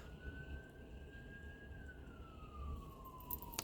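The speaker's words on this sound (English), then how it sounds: "take those sirens as confirmation" Faint and distant, an emergency vehicle siren wails outside, its single tone rising slowly and then sliding back down over a low, steady background rumble.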